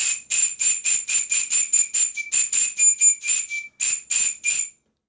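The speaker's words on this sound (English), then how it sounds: "all of the whistles you've been hearing, apart from the ones fitted to the engines" A shrill model steam whistle run on compressed air at 40 psi is blown in a rapid series of about sixteen short, breathy blasts, mostly evenly spaced with a brief gap near the end.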